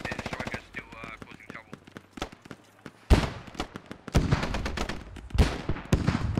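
Mortar fire in a video game battle, heard as sharp, rapid cracks and thudding blasts that grow into dense overlapping booms and gunfire, with a commentator's voice talking over the early part.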